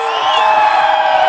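A crowd cheers and shouts loudly and continuously at the Notte Bianca night festival in Lercara Friddi, with a dense roar of voices and whoops filling the whole moment.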